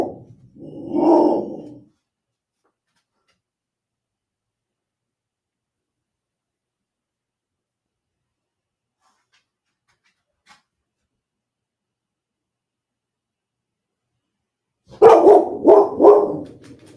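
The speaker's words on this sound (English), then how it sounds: "The doggy hears something outside." A dog indoors pants and barks in two short bursts, one at the start and a louder cluster near the end, separated by long silence.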